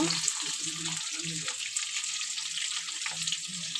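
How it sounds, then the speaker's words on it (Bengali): Potatoes frying in ghee and white oil with a little colouring, a steady bright sizzle throughout while someone speaks over it. "তো এখন এখানে ঘি আর সাদা তেল দিয়ে আর একটু হালকা রং দিয়ে আলুটা ভেজে নিচ্ছি।"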